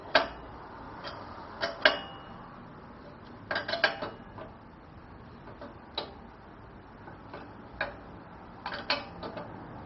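A size 18 wrench turning a bolt while a 14 mm wrench holds it on a BendPak QuickJack BL-7000SLX fitting, giving faint, sparse bursts of metallic clicks and ticks with quiet gaps between them.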